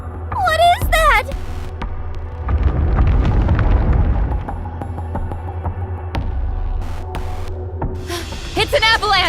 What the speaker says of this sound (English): It's an avalanche!